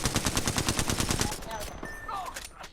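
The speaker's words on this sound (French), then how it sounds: "Je suis sous les tirs." Rapid automatic gunfire from a video game shooter rattles in a fast, loud burst for over a second, then fades into whizzing effects and tails off.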